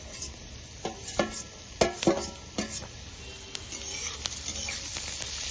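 Turmeric and chopped green chilies fry in an oily pan while being stirred, with sharp scraping clatters and a steady sizzle that continues underneath the movement.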